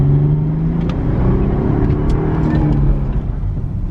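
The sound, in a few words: Mercedes C320 engine revving with muffler delete exhaust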